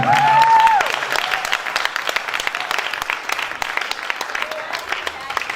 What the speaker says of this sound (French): sous tes acclamations, nous allons recevoir Dr. Prosper Béguetou.